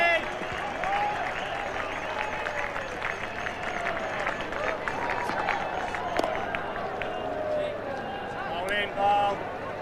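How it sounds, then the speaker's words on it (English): Cricket crowd at a 1996 World Cup match between England and Holland, sustained applause and cheering from a large crowd around the ground, steady and fairly loud with a commentator's voice over it. "Big cheers around the ground."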